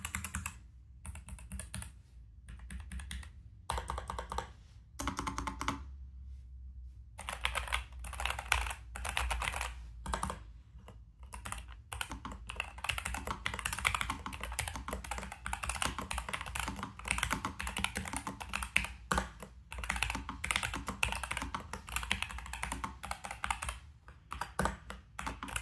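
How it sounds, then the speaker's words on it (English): Steady, fast typing on a NuPhy Air75 V2 low-profile mechanical keyboard, dense close key clacks with a few brief pauses, no voices. "We'll do some typing tests next for the sound and feel."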